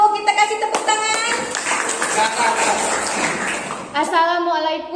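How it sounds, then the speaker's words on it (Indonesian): Classroom applause for the first student group in an Indonesian lesson, a burst of many hands clapping that rises abruptly and then breaks off, with children's voices audible at the start and end. "Kita kasih tepuk tangan"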